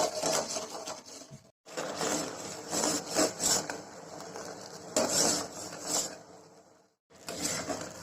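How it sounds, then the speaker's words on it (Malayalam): Sugar syrup for honey candy is stirred in a pan over the flame, giving a steady scraping and rubbing sound in close bursts with a couple of short breaks and no talking. "നമ്മളിങ്ങനെ മിക്സ് ചെയ്തുകൊണ്ടിരിക്കുക"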